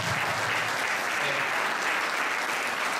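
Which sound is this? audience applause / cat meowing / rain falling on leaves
audience applause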